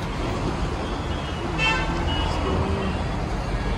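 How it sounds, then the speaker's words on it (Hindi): Dense road traffic in Badshahpur, a steady roadway roar with a brief horn toot standing out midway, heard from close by. "भाई, बहुत गंदा ट्रैफिक है"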